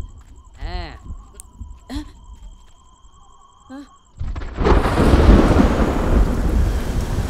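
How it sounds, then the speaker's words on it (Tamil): A heavy rain and thunder effect comes in abruptly after some earlier tonal sounds: a loud, dense wash of rainfall and rumbling thunder that carries on steadily to the end. "அப்படியே அந்த மலை மேல மழை பெய்யற மாதிரி ஒரு ரெயின் எஃபெக்ட் போட்டா சூப்பரா இருக்கும்ல?"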